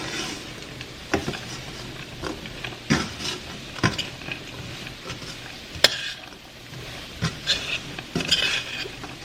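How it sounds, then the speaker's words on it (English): Sugar-glazed nuts stirred in a pan as the sugar coating dries, giving scattered scraping and clinking taps from a utensil against the pan over a low background sizzle, with no voices. "we're just going to keep stirring"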